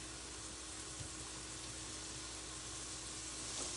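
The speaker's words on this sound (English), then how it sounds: "So I'm going to drop a hunk of butter right in the middle here." A hunk of butter melts and sizzles in a hot 12-inch skillet, giving a steady, soft, hissing crackle that holds evenly throughout with no voices over it.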